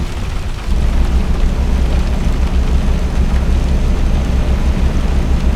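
Rain and thunder from the Euro Truck Simulator 2 video game, a dense, steady wash of rainfall with a deep rumbling undertone that swells in after a moment and stays loud throughout, with no talking.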